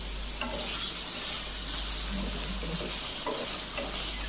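Potato slices fry on a nonstick tawa with a steady, even sizzle, joined by a few soft taps and scrapes of a utensil, close by, over a low constant hum and without speech.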